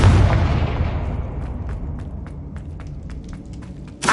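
Confringo blast spell from the Hogwarts Legacy video game: a heavy booming explosion at the start that decays into a long rumble, with a second sharp burst at the end.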